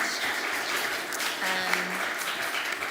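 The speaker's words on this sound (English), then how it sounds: "A round of applause for our distinguished panel" Audience applause for a panel at a climate finance event, a sustained wash of many hands clapping, with a brief voice briefly rising through the middle.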